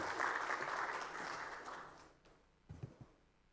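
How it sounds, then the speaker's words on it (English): Audience applause for a speaker at an emergency medical teams conference session, a short round of clapping that fades out after about two seconds, followed by a few soft thumps. "Let us please give Kai a warm round of applause."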